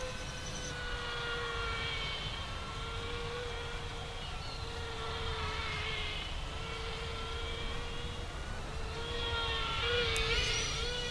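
An Air Hogs Storm Launcher toy plane's small electric motor flies at low throttle with a steady, thin whine that wavers in pitch, heard alone throughout.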